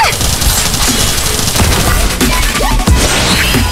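Forward weapons unleash a barrage in the Starseed: Asnia Trigger mobile game, a loud dense volley of rapid booming shots and impacts running continuously for nearly four seconds, with game effects layered over it.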